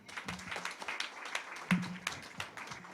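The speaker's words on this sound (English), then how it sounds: "Give him a round of applause." Scattered applause from a small audience at a disaster awareness gathering in Brooklyn, irregular individual claps, fairly faint and sparse, with a few louder claps standing out.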